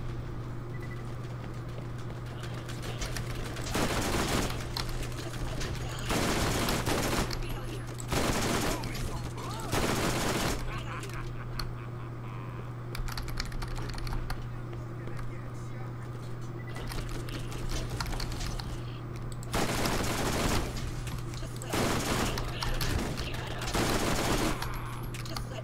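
Bursts of gunfire in the video game Borderlands, repeated rapid volleys in short clusters over a steady background hum, with stretches of quieter play between them.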